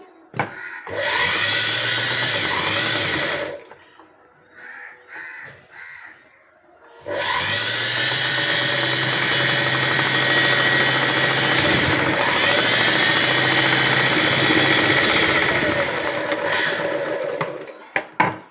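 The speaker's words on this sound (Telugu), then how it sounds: "ఇలా చేసుకున్న తర్వాత ఈ చివర్లో ఒక కుట్టు రానివ్వాలండి" Sewing machine running steady bursts while stitching a folded puff sleeve edge: a long run, a short pause broken by a few brief stitching spurts, then another long continuous run close up, with no talking.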